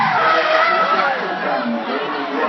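A Pontiac Trans Am drifts at a drift event, its tires squealing and engine roaring as a loud, sustained screech with crowd noise around it and someone talking over it.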